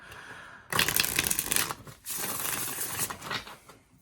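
Rose Tarot deck by Llewellyn, laminated thin cardstock, riffled in close bursts: two crisp papery flurries with a short pause between, soft flicking and slapping of cards, no talk.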